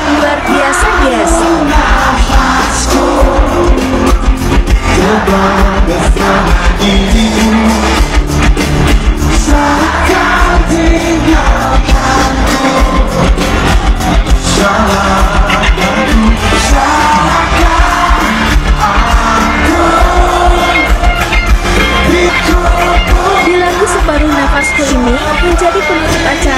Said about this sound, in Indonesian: Menjadi penutup acara dengan pesta kembang api